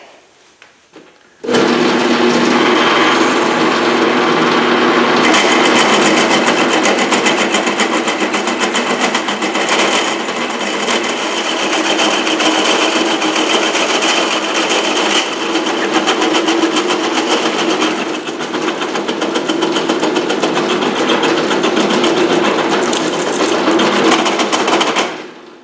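A hole saw bores through a motorcycle frame during repair, a loud, continuous grinding whine that starts abruptly and holds steady for over twenty seconds, close and alone without talk.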